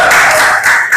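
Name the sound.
applause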